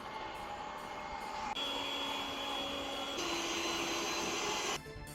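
A Yeedi Vac Max robot vacuum runs with a steady, fairly quiet motor whine that shifts pitch in a few distinct steps, heard close and alone with no talking.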